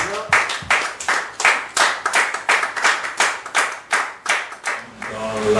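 A church congregation claps in unison during a worship service, with loud, rhythmic group claps beating steadily at roughly two to three per second, all close and strong, with faint voices in the background.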